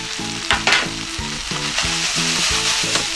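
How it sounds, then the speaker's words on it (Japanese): Pork and garlic chives are tossed in a hot pan, giving a loud continuous sizzle with a few sharp stirring bursts, while rhythmic background music plays underneath. "最後にニラ入れたらあとはねさっと炒める"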